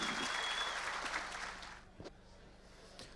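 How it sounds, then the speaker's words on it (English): Applause from the audience at a sold-out live evening event, a full crowd clapping that fades away over the first two seconds, leaving quiet room tone with a couple of faint knocks. "please give a warm round of applause to Dave Watson and to Joe Hart"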